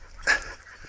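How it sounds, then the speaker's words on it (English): A single short bark or yip from a wild dog on a fern-lined coastal path near Penpol, Cornwall, sharp and fairly near, over quiet outdoor background. "Oh, look out, wild dogs."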